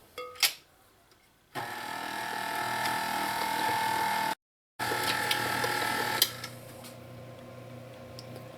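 An electric mixer whirs steadily as it blends homemade rum cake batter with flour and rum, a continuous motor drone that cuts out briefly, resumes, then winds down near the end.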